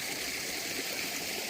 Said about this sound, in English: the filtered water, I guess, from these Screenmatics is straight into the back of this grotto situation that I've got here, and then it will waterfall down